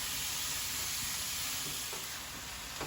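Ground beef with onions and garlic cooking in a pan, giving a steady, close broadband sizzle that holds at an even level, with a few faint stirring scrapes and no talking.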